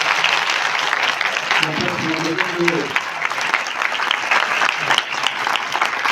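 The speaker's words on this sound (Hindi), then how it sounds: "तो एक बार मैं चाहूँगा जोरदार तालियों के साथ आप लोग" A crowd at a smart-school event in Noida claps loudly for a foundation, with sustained dense applause throughout and a voice briefly audible early on beneath the clapping.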